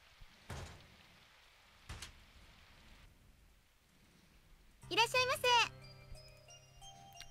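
Rain falling over a city street in a video game, a steady soft hiss joined by a couple of sharp thuds, then a bright chiming musical phrase near the end.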